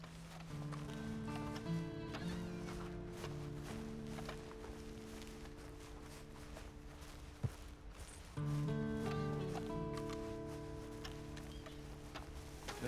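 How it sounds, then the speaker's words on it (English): Horse hooves clip-clop steadily in Red Dead Online on Xbox, a quiet regular walking rhythm under swelling game music and ambient rustle. "Then you better get on this horse."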